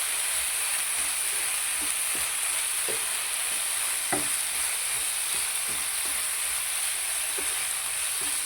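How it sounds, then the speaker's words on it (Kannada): Tomato and onion frying in a pan for capsicum curry, a steady bright sizzle with occasional soft ticks of a spoon stirring, continuous and close with no talking. "ಇವಾಗ ಟೊಮೆಟೊ ಈರುಳ್ಳಿ ಫ್ರೈ ಆಗ್ತಾ ಬಂತು."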